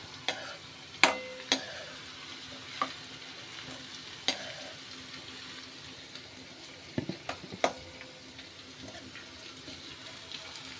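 Shredded potatoes fry in oil with a steady, quiet sizzle, broken by sharp scraping clicks as a utensil stirs them, no talking.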